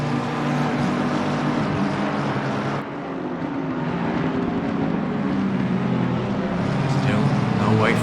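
GT3 race car engines roar steadily in the Assetto Corsa Competizione racing game, a loud continuous drone with a brief dip and a rising whine near the end, under a commentator's voice.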